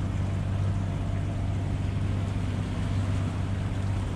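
A boat engine holds a steady drone at 2000 rpm while pushing against the current on the Gambia River, with wind and choppy water adding a constant rushing hiss.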